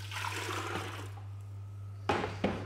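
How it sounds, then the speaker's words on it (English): Liquid drains and trickles through a full deer skull during cleaning, a soft watery flow followed by two sharp splashes near the end, with a steady low hum beneath. "let that drain through the skull while you go around the back"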